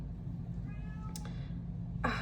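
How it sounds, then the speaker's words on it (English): A cat meows twice, a drawn-out mew followed by a sharper short one, fairly close against a low steady hum. "He's meowing. He wants to come in."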